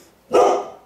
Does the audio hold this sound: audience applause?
no